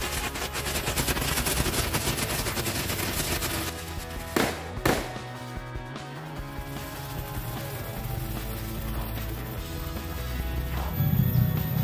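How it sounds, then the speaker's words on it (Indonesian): A pack of black Happy Flower disco firecrackers going off together, a dense, loud, continuous crackle of rapid pops with a couple of sharper bangs partway through, sustained throughout. "selanjutnya ini kita nyalain mercon Happy Flower warna hitam atau mercon disco satu pak sekaligus"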